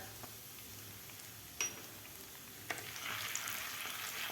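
Low, steady oil sizzle while turmeric and asafoetida are stirred in with fried dal, with a couple of sharp spoon clinks against the pan and a brighter burst of frying toward the end; fairly quiet overall.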